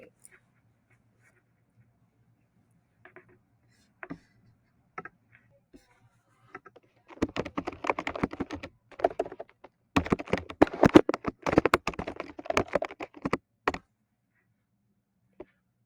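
Typing on a computer keyboard, scattered single taps at first, then dense bursts of quick clicking keystrokes, close and clear with pauses between bursts.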